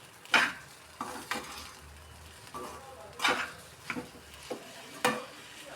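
Spoon stirring egg rice with mint leaves in a pan, a few scattered scrapes and knocks against the metal over a faint sizzle, close but soft.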